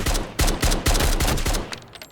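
Rapid bursts of gunfire from the military survival shooter Road to Vostok, a quick string of loud, sharp shots in a steady rhythm that thins out toward the end, with no talking.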